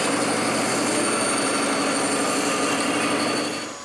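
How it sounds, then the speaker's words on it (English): A homemade wooden bandsaw cuts through wood with a loud, continuous roaring whine and steady mechanical hum, holding constant before easing off at the very end. "Martin makes the cut on my saw."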